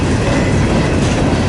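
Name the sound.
CSX freight train cars passing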